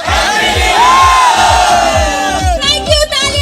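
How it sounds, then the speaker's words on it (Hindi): A crowd at a Hyundai dealership event in Lucknow shouts a loud, close group cheer in unison, then breaks into ragged whoops and cheering. "हम सब मिलके हैप्पी न्यू ईयर कहते हैं जरा जोरदार एकदम ग्रुप चीयर के साथ"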